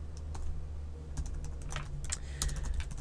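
Code being typed on a computer keyboard: steady, quick key clicks at close range over a low background hum, with no one talking.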